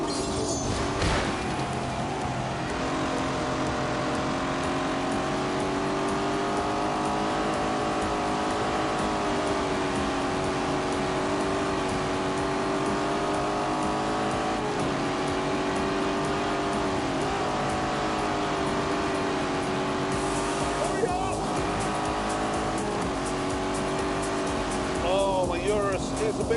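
A Lamborghini Urus driven in The Grand Tour video game gives a continuous engine drone that rises and falls with throttle changes. Tire and road noise sit underneath, and voices talk over it throughout.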